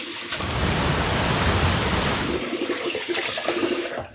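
Water gushes steadily from a bathroom tap for rinsing after a shave, loud and close, a dense hiss that holds for a few seconds before shutting off abruptly.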